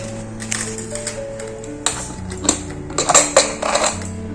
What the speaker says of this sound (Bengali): এরপর ঢাকাটা খুলি দেখি কেমন মাংস আলু সব সিদ্ধ হতো